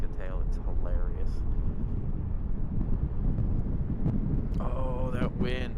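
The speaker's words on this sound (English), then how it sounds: "Oh, that wind, stop it." Strong, steady wind buffets an outdoor microphone at an airport plane-spotting spot, a dense low rumble throughout, while a person talks over it and brief tonal engine whines appear near the end.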